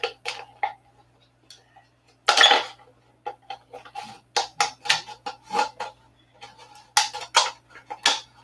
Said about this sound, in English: we're going to just mix it in solo cups